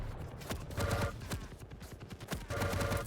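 Machine gun fire in the Quake video game, rapid bursts of shots clattering loudly alongside other in-game gunfire and effects, with no talk over it.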